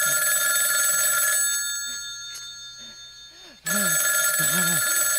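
A telephone rings in a Hindi film scene, a steady electronic ring that stops abruptly for a moment, then returns loudly with voices talking over it.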